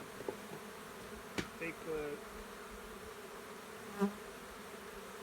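Honeybees hum steadily around a hive frame from a mating nuc, a close continuous drone with a few sharp knocks and a brief spoken word over it.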